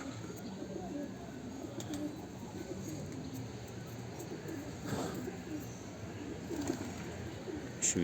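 A bird cooing softly near a coop over a steady outdoor background hum, its calls faint and intermittent.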